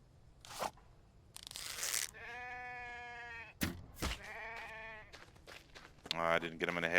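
A sheep in the survival video game The Infected bleats in several long, wavering calls, loud and close, between sharp hits and rustling, while someone talks over it.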